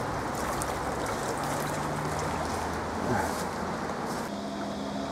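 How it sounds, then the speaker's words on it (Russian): A swift river rushes in a continuous dense roar of flowing water close by, steady and loud throughout with no pauses or speech. "Это река, довольно стремительно струится вот туда."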